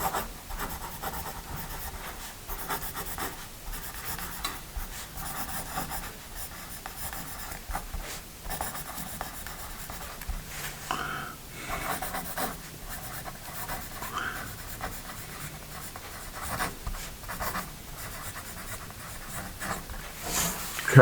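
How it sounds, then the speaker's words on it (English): A Paper Mate Write Bros 0.9mm mechanical pencil scratches steadily across paper, a close, continuous soft graphite rasp with small strokes and pauses throughout. "It's a fairly smooth writing core."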